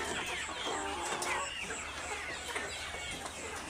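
Layer hens on a poultry farm cluck and murmur in a continuous, busy chorus, with overlapping calls from many birds rising and falling over a steady background hum.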